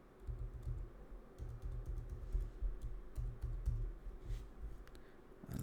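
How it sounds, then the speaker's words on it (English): Rapid, soft key presses on a MacBook keyboard, steady and continuous as a password is entered, close and quiet with no voices. "just type your password"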